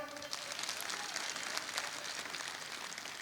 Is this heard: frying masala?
no